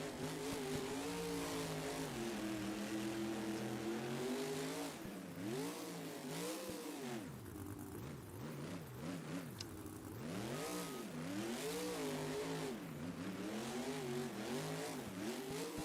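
The El Toro Loco monster truck's big engine revs hard in the indoor arena at Louisville's Freedom Hall, rising and falling in long repeated throttle sweeps, loud and close throughout with no voices over it.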